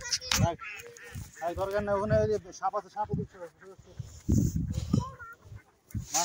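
Ducks quack in short bursts outdoors near a fishing spot while a person talks loudly over and between the calls.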